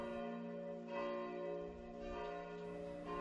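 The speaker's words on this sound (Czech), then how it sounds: "V 13. století začalo být pozdvihování ohlášeno také věžním zvonem." A church tower bell rings for the elevation during Mass, its steady rich tones sounding repeatedly in slow rhythm with long sustained resonance, moderately distant and alone.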